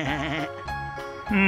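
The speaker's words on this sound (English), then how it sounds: "Hey, Mr. Goat, don't spit on me." A goat at a corn maze farm bleats in several drawn-out, wavering cries, close and loud, with a sharper bleat rising at the end.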